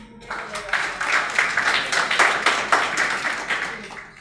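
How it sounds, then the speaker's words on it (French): Audience applause, rhythmic clapping from a gathered crowd that swells in regular pulses, fairly close, with voices mixed in beneath the hands. "Applaudissez-vous, s'il vous plaît."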